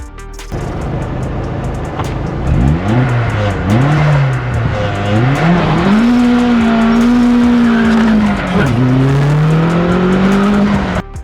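A 330 bhp turbocharged Vauxhall VX220 revs past 4,000 rpm and launches, engine pitch rising and dropping through gear changes while tires squeal and spin; loud, close, no voices.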